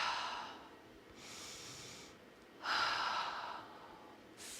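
Deep breaths during a seated yoga stretch, two long broadband exhalations about a second apiece with a softer one starting at the end, close and fairly quiet against a faint room hush, no talking.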